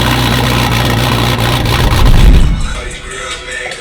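A car engine hums steadily at close range as it pulls onto the interstate, a low rumble that swells briefly and then eases off toward the end.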